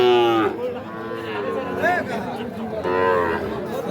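Young Sahiwal bulls on a farm in Faridpur moo loudly and close by, with one long call at the start and another near the end. Faint background chatter can be heard between the calls.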